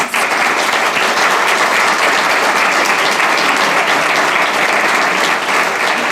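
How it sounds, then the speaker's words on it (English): Sustained applause from a school board forum audience honoring the candidates, dense and loud, with steady clapping filling the room for about six seconds and no one speaking over it. "So let's give them a round of applause."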